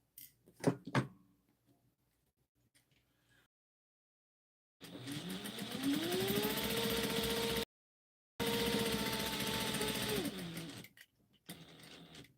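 A sewing machine stitches along a chalk line on fabric for a Halloween trick-or-treat basket, running in two steady whirring bursts of a few seconds each, separated by a short pause and preceded by a couple of clicks.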